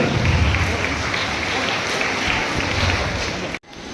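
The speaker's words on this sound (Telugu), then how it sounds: "ఈరోజు 20 గట్టిగా చప్పట్లతో స్వాగతించాల్సిందిగా సమీనా కోరుకుంటున్నారు" Sustained applause from an audience at an annual celebration, dense steady clapping that fills the whole stretch before cutting off abruptly near the end.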